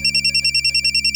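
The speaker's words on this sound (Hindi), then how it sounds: "अरे आपका फोन।" A telephone ringing: a loud, rapid pulsing electronic trill that repeats evenly and steadily with no voices over it.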